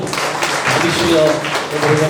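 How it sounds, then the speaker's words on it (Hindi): An audience applauds at a live comedy and poetry event in Indore, steady, loud, dense clapping throughout with a voice faintly mixed in. "जोरदार तालियां"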